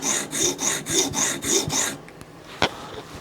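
Soft-steel OTF knife blade drawn across a sharpening stone in six steady rasping strokes, close and fairly loud, followed by quieter scraping and a single sharp tap.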